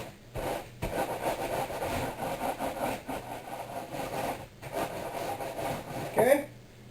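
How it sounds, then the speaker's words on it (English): Crackers are crushed fine for a frying coating mix, a continuous gritty rubbing and crunching that rises and falls in repeated strokes, close by, ending with a sharper knock. "Now I do this a couple of times if I were you, to make sure that you get them crushed down small"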